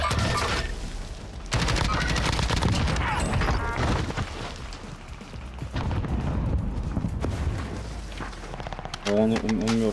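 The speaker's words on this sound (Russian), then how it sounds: "Тихо, кто-то стреляет по мне, я понял." Heavy gunfire in the video game Warzone, with dense bursts and booming shots filling the scene nearly nonstop, loud and close, with brief lulls and a voice speaking near the end.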